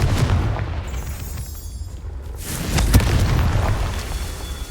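Confringo blasting spell in the Hogwarts Legacy video game, a deep booming explosion with a sharp burst near the three-second mark over a continuous rumbling low roar.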